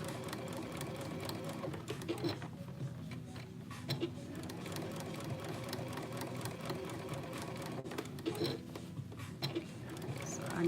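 A sewing machine runs continuously at a quiet level, with a fast mechanical whir and clatter, occasional louder ticks, and no talking.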